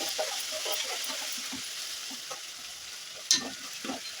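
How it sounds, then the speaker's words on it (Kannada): Chili paste fries in a pan for raw mango rice, with a steady, soft sizzle and occasional stirring scrapes close by and one brief sharper clink near the end. "ಈಗ ಒಂದು 2 ಸೆಕೆಂಡು ಹಸಿ ಸ್ಮೆಲ್ ಹೋಗೋವರೆಗೂ ಫ್ರೈ ಹಾಕ್ಕೊಳ್ಳೋಣ."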